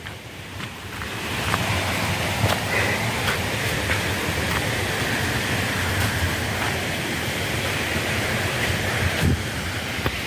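Raikal waterfall, where small streams gather and drop, giving a loud, constant roar of rushing water, broadband and unbroken, with faint intermittent ticks over it and no voices.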